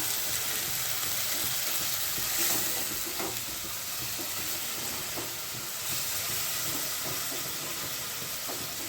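Onion and tomato paste sizzles in a hot pan, a dense, even frying hiss that continues close and steady for several seconds, with faint stirring taps and no talking.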